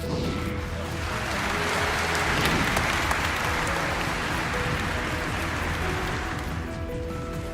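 Loud, thunderous applause from a large crowd at an honour ceremony for a celebrated Indian woman athlete, dense and steady throughout with a slight swell in the middle.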